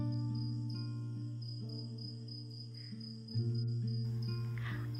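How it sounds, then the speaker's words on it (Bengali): Crickets chirp steadily at dusk around Kiriburu–Meghataburu, a dense, continuous insect drone layered in several sustained tones that holds unbroken throughout, with a faint extra shift near the end. "সন্ধে নামার সাথে সাথেই চারদিক থেকে ঝিঁঝি পোকার ডাক ভেসে আসতে লাগলো"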